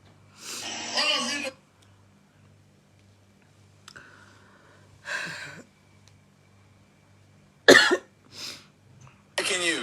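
Several harsh coughing bursts, close and fairly loud, come in separate spells between quiet gaps, with a cluster at the start and more sharp coughs near the end.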